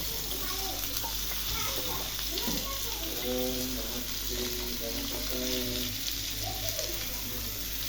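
Onion, tomato and cabbage sizzling in an oiled pan for leftover chapati noodles: a steady broadband fry hiss runs throughout, with a person talking over it.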